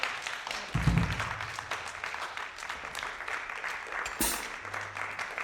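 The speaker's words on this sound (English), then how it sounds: "Could we have one more round of applause for all these musicians?" Concert-hall applause for a percussion ensemble after a performance: steady, moderately distant clapping from the audience continuing for several seconds, with a few brief louder thumps within it.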